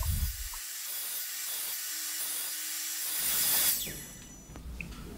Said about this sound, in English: To join the side rail with the leg, I am here removing the wood by a row of shallow cuts.